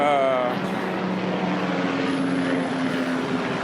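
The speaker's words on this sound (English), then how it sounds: "That's like helicopter number 57." A helicopter flies over a Los Angeles neighborhood, a steady droning engine and rotor hum with tonal harmonics, moderately loud and continuous overhead, heard without talk over it.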